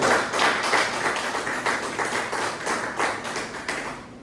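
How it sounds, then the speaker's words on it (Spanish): A church congregation applauding during a sermon: steady, dense clapping with a loosely pulsing rhythm that fills the whole stretch, fairly close and loud, with no talk over it. "Denle un fuerte aplauso porque Dios merece todo."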